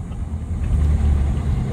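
A BMW 520d's exhaust rumbles low and loud nearby, swelling as the engine is revved briefly and then holding at a deep, throaty drone.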